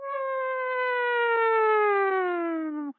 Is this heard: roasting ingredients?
no